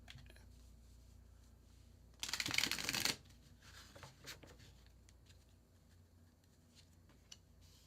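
A short riffle of tarot cards being shuffled, crisp and close, followed by faint ticks and handling in a quiet room.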